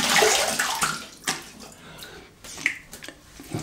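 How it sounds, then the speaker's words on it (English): Water splashing and running during a quick rinse of the face or razor after a shave, a series of wet splashes and sharp drips close by, with no talking. "Have a quick rinse."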